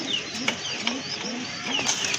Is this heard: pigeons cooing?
yes